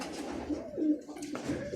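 Roller pigeons coo softly in a loft, a few low throaty rolling calls repeating close by, with faint background noise.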